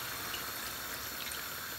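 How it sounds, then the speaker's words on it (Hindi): Water poured into a pan of potato curry, a steady broadband wash of liquid running continuously and fairly close, with no talk over it. "तो यहाँ पर अब मैं इनके अंदर शामिल कर दूंगी पानी"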